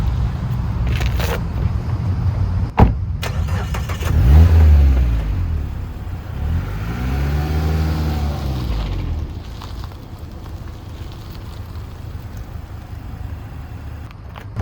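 A Mazda Miata's engine revs and accelerates while being driven, rising and falling through a couple of strong pulls with a steady drone of engine and road noise throughout.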